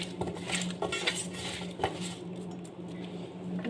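Spoon scraping and clinking around a pot of taro with tomatoes as it is stirred together, a steady run of close metallic knocks with a low hum from the stove beneath.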